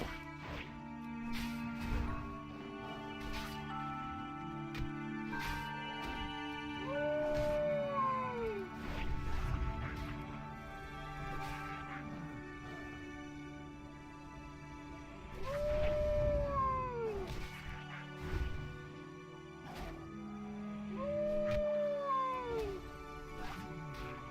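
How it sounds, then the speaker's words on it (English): A hunter's pet howls in World of Warcraft Classic, three drawn-out rising-and-falling wolf-like howls repeating every few seconds over steady game music and ambient sound, with no talk. "Poor pet's dying on me. That's why he keeps howling."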